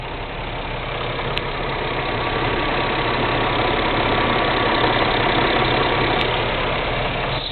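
A Mazda-built V6 in a Mazda Millenia idles steadily and evenly, a continuous close engine hum with no speech over it.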